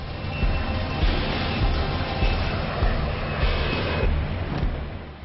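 Sukhoi Su-30 fighter jets fly overhead with a continuous, fairly loud jet-engine roar that swells and eases slightly but never breaks.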